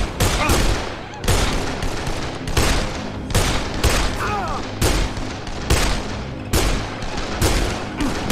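Rapid gunfire in the video game Dead Island, bursts of loud shots repeating in quick clusters with brief gaps between volleys, close and sharp throughout.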